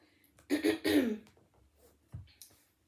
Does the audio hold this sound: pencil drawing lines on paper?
no